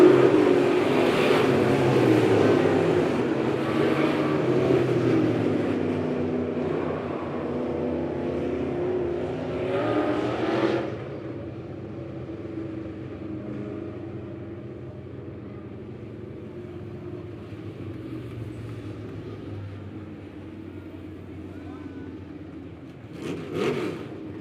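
Dirt late model race cars roar around a Midway dirt oval in a heat race, engines loud and sustained for about ten seconds before dropping to a quieter rumble as the field passes by, with a brief surge near the end.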